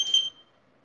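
Pasta machine buzzer signalling that soba dough mixing is done, a single short electronic beep that sounds briefly and then fades out quickly, close and clear, no talking.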